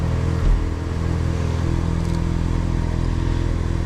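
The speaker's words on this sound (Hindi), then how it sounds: "कोल्ड स्टार्ट कर लेते गाड़ी को। वो कोल्ड स्टार्ट की साउंड ही अलग है गाड़ी की।" A Ford Mustang is cold started at home, its engine settling into a steady, loud idle with a brief rumble near the start and a constant mechanical drone throughout, no talk over it.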